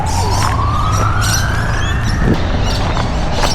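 An ambulance siren rises steadily in pitch as it passes along a busy road, loud and continuous over constant traffic rumble.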